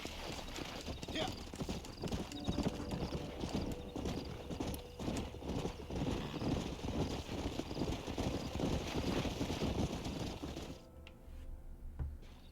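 Horse hooves clip-clop steadily in a video game, where horses are being gathered, under constant wind and rumbling noise, with a whinny and the hoofbeats fading toward the end.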